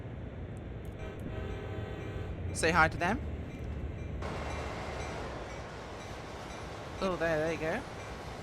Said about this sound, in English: Oh, big train.